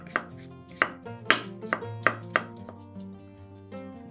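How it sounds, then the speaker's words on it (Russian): Knife chopping champignon mushrooms into pieces on a cutting board, six or seven sharp close thuds in an irregular rhythm, with no talking. "500 грамм шампиньонов моем, разрезаем пополам и нарезаем произвольными кусочками."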